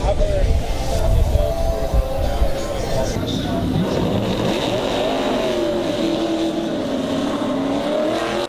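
DGM race cars lapping the track during Daytona qualifying, a loud continuous engine roar with shifting pitch, while voices talk over it.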